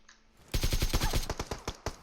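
Automatic AK rifle gunfire in the PUBG Mobile video game, heard as a loud, close burst of rapid shots that starts after a short quiet lead-in and continues in quick succession to the end.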